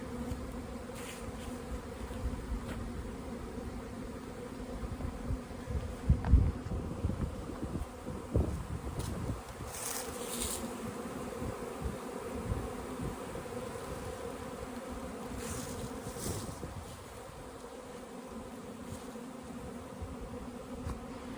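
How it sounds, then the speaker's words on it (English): Bees fly and buzz around a hive entrance in the open, a dense continuous hum with individual bees whizzing past close to the microphone now and then, no voices. "This is the bee flight."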